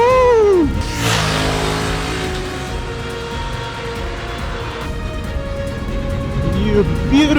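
A 2020 BMW F 900 XR motorcycle engine revs loudly up close, rising and falling in pitch with a sustained high run in between, while a voice talks over it.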